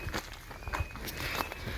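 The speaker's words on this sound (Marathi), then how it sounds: "अशा आम्ही पर्यातून चाललो आहे." Quick, light footsteps crunching along a dirt path through farm fields, a steady walking rhythm close by with faint outdoor background noise.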